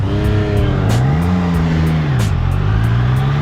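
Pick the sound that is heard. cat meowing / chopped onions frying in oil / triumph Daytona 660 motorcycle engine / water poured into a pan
triumph Daytona 660 motorcycle engine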